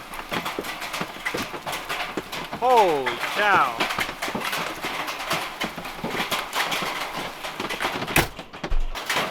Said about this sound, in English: That's some of the biggest hail.